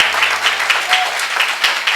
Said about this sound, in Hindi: कम ऑन, आपके तालियों में आवाज।